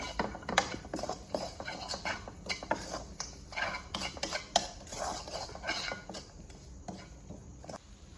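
In a pan, a metal utensil stirs and scrapes bread koththu ingredients with pepper and chilli flakes, giving close, irregular clinks and scrapes in a loose, steady rhythm.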